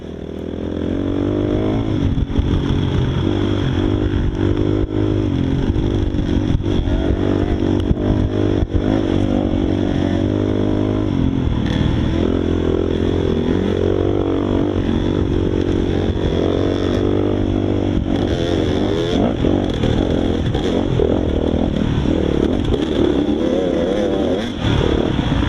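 Pack of motocross motorcycles racing a five-lap dirt-track round at Eddieville, engines loud and continuous, revving and shifting together throughout.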